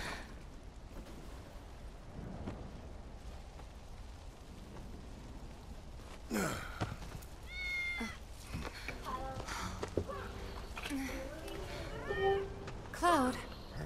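A cat meows a few times within Final Fantasy VII Remake gameplay, the short, rising and falling cries standing out over game ambience and spoken dialogue.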